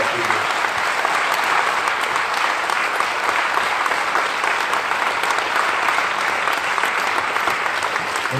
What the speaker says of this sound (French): on peut évidemment l'applaudir